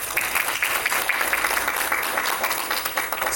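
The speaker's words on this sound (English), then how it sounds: "Give them all a quick round of applause" Conference audience applauding at a panel event, a dense, steady patter of many hands clapping that sustains for a few seconds.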